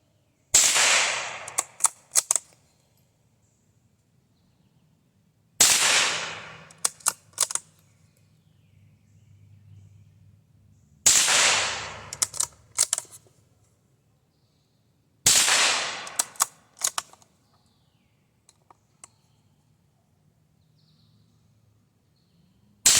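A Pietta Ace revolver fired at a range, four loud sharp reports each followed by a few quicker shots, spaced about five seconds apart with quiet gaps between.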